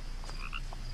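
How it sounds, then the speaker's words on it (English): Frogs croak in the video game What Remains of Edith Finch, giving a few short, close croaks in quick succession over a steady ambient background. "Oh, there's froggies too."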